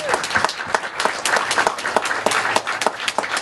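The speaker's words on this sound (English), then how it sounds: "Let's give him a round of applause." Audience applause at a youth-organization open house honoring a volunteer of the year, steady dense clapping from a sizable crowd filling the room throughout, without speech.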